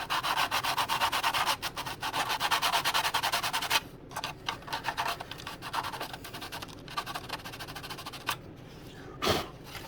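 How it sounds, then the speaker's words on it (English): Sandpaper working the wooden skin of a 1:20 scale mini hydroplane kit at the tunnel and sump, dense rapid scratchy strokes close up, continuous at first and then breaking into shorter separate rubs. "now I can sand it."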